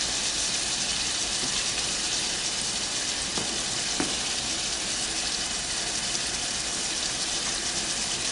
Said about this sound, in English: Go ahead and add the garlic.